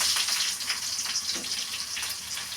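Onions added to hot oil with crackled mustard seeds and curry leaves for a chicken recipe, giving a steady hiss of frying that stays even and fairly loud throughout.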